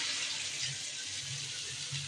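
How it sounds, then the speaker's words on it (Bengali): Water poured into a fish and pointed gourd curry in a home kitchen, a steady soft hissing splash of flowing liquid lasting a couple of seconds, close and fairly quiet. "পানি দিয়ে দেবো।"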